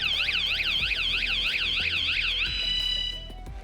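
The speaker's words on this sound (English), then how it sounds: "it activates a powerful alarm as soon as somebody touches your door" A Van Guardian motorhome door alarm wails loudly and continuously, its rapid warbling tone sweeping up and down before settling into a steady pitch, close and alone over a low hum.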